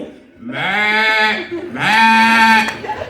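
A performer at a March 8 holiday concert at a culture college imitates a sheep with his voice: two long, wavering bleats, loud and close, separated by a short pause.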